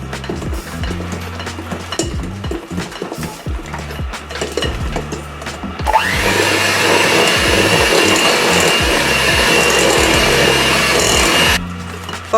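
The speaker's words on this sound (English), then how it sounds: "so why are you using a mixer?" Electric mixer beating vegan banana nut bread batter in a bowl, a pulsing motor whir that settles into a louder, steady drone for several seconds before cutting off, close by with no voices.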